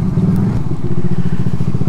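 A Suzuki GSX S150 motorcycle rides through traffic with a steady, low, pulsing engine rumble close up, its rhythmic beat firming slightly partway through.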